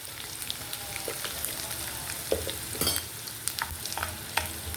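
Crushed garlic frying in a pan with cumin and turmeric for ginger chutney, a steady soft sizzle broken by a few sharp scrapes and clicks of stirring, fairly quiet with no voices.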